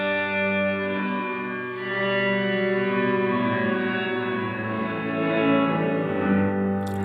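Wet-only guitar reverb from a Strymon NightSky pedal while its high cut knob is turned, a sustained, droning wash whose brightness gradually shifts over several seconds, steady and without voices.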